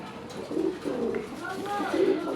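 Maxi-colour Rajgola pigeons coo in soft, low, rolling calls, several in a row at close range over a faint murmur of background voices.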